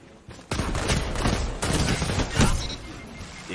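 Rapid bursts of automatic gunfire from the shooter game Destiny 2 during competitive play, loud close volleys starting abruptly and continuing in dense overlapping shots with a few heavier impacts.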